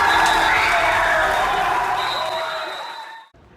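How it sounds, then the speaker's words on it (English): A school crowd in a gym erupts in loud, dense cheering and shouting after an HM water polo team's overtime victory, the roar holding strong and then fading before cutting off. "the crowd erupts and members of the HM water polo team"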